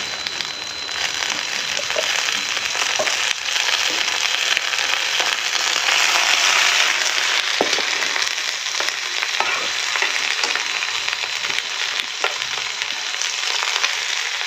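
Garlic frying in a pan, a steady loud sizzle with crackling that runs without a break from start to finish and carries no talk over it.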